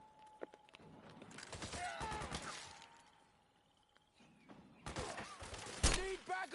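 Bursts of rapid gunfire crackle in Metal Gear Solid 4: Guns of the Patriots, a volley early and another later, between quieter stretches with soldiers' shouted voices and background battle noise.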